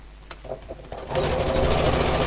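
Sewing machine stitching with cream thread starts after a few light clicks and handling sounds, then runs as a steady, close, rapid whirring hum to the end.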